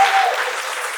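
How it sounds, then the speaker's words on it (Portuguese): A lecture audience gives a brief burst of applause that starts abruptly and holds a dense clapping texture for about a second, fading slightly by the end. "Uma salva de palmas!"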